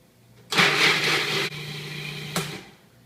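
Cuisinart food processor grinding one cup of raw pecans toward a floury texture, a loud whirring burst that cuts off, restarts briefly and stops again, with no voice.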